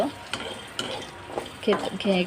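Pumpkin seeds are stirred in a hot pan, with a quiet frying hiss under repeated scraping strokes of a spatula and brief clinks against the metal, all close and low in level without speech.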